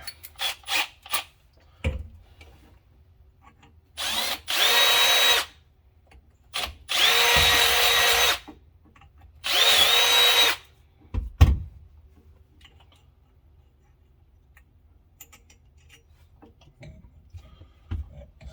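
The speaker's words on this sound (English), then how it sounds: "Now I'm going to go on the outside of the truck" A power drill whirs in three sustained bursts of a few seconds each, drilling a 3/16 hole in a 1974 Ford F100 truck, separated by pauses, with scattered clicks and handling noises between them.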